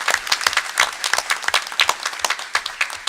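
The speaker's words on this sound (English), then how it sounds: "So round of applause for her." Applause at a school board of education meeting, a modest group clapping in a quick uneven rhythm of distinct close claps, steady and fairly loud throughout.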